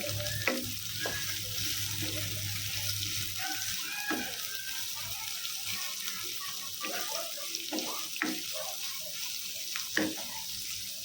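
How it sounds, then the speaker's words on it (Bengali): Onions and green chillies frying in a pan for a pointed gourd bharta, a soft, steady sizzle with intermittent scraping and clinking from stirring, fairly quiet and close. "এগুলো ততক্ষণে আমি একটু বাদামি বাদামি করে ভাজতে থাকবো।"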